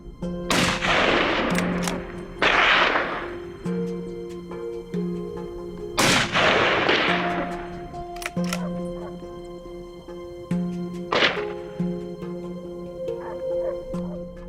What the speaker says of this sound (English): The gunshot rings out.